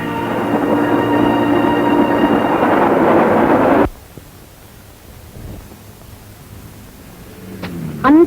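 A metro train at a metro station roars and rumbles loudly and steadily for about four seconds, then stops abruptly, leaving a quiet hum that ends in a short rising wheel squeal.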